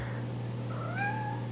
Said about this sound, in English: Can you meow for the camera, Ivy?